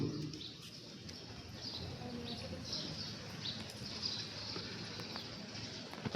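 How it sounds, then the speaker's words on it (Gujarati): Faint birds chirping in the distance over a soft outdoor hush, scattered calls coming and going. "સરસ મજાના પક્ષીઓનો અવાજ આવી રહ્યો છે"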